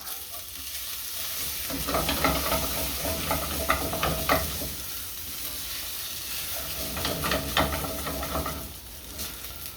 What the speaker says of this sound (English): Let's get this rice browned up.